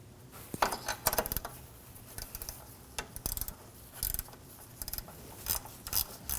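A ratchet tightens a bolt on the water pump of a 2007–2013 BMW 328i 3.0L inline-six, giving bursts of quick metallic clicks and clinks in irregular runs, close and fairly quiet.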